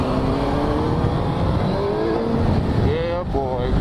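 A fuel-injected gold motorcycle, a sporty bike with an aggressive forward rake, hums along with a steady engine drone and rising and falling revs, while someone talks loosely over it.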